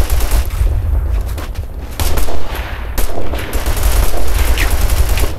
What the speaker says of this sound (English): Sounds like hostile fire!